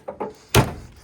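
A 1979 Camaro door with a pin needing adjustment: two light taps, then one solid thunk as it shuts, close and alone with no talk.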